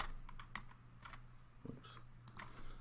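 Quick, irregular keystrokes on a computer keyboard typing a Linux command, soft and close with crisp individual clicks and brief pauses between bursts.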